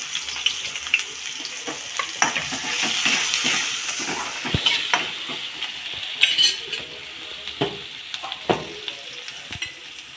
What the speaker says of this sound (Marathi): मोहरी कडक आली की आपण यामध्ये कांदा टाकणार आहोत। तसंच हिरवी मिरची सुद्धा।